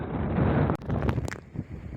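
A loud rush of desert storm wind in Chile buffets the microphone, roaring steadily before breaking into gusty, uneven bursts.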